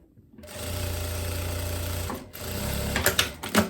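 A sewing machine stitches the sleeve and armhole seam of a viscose dress, whirring in a steady close run after a brief quiet start, pausing, then resuming in short bursts with light handling clicks.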